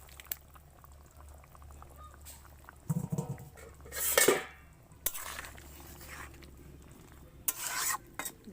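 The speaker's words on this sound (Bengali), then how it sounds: "আমি এখানে বেগুন ভাজা চিংড়ি মাছের ভাজাটা দিয়ে দিচ্ছি" Fried eggplant and fried shrimp are added and stirred into a simmering curry, with intermittent scraping and clattering bursts over a low bubbling sizzle, quiet between stirs.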